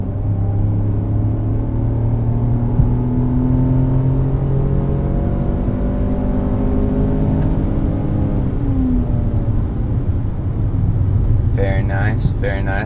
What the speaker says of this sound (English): I'm going to rev this engine and let you see how that sounds.